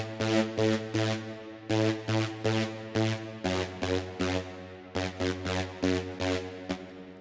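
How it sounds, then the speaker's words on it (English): An OB-8 style synth brass preset plays loud, punchy chord stabs in a bouncing rhythm, with brief gaps between phrases and no talking over it. "So this is like synth brass."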